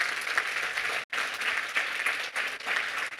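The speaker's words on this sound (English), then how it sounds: "Give them big rounds of applause." A seminar audience applauds steadily for about three seconds, dense clapping with a brief break partway through.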